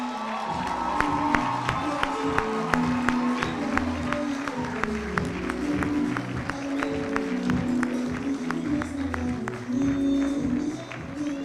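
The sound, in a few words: audience applauding graduates at graduation ceremony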